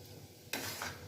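Chicken keema masala with yogurt is stir-fried in a pan under a constant soft sizzle, broken by one sudden spatula scrape halfway through.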